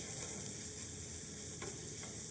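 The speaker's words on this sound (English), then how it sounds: "We're going to saute these mushrooms along with the shallots." Mushrooms and shallots sauté in butter for a chasseur (hunter) sauce, giving a steady, soft sizzle that stays even throughout with no voices.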